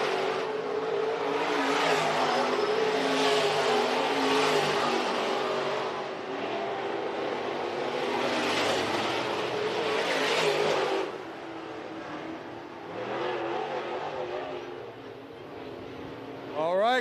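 Race cars at Phillips County Raceway on Father's Day roar steadily around the track, a continuous distant engine drone that swells and fades with passing laps while an announcer talks over it.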